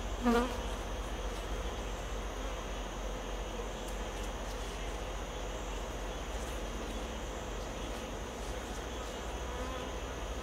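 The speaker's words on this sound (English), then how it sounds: "Yes, the car guy has bees, little honey bees." Honey bees kept by a car enthusiast drone in a steady, dense buzz around their hive box, a continuous close-up hum with individual insects passing near and no talking.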